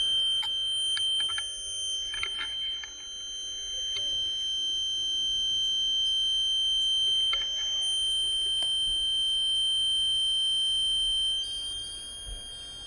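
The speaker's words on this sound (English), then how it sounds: "So let's tip the float switch and see whether you can hear it." A buzzer alarm set off by tipping a float switch gives a thin, very high-pitched steady tone, faint and continuous, with a few light clicks and handling noises, and no talking.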